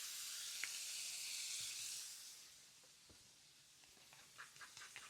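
Salmon fries in a pan with a steady soft sizzle that eases off midway, joined by light clicks and small pops toward the end.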